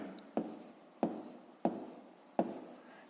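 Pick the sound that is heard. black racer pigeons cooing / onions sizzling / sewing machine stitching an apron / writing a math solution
writing a math solution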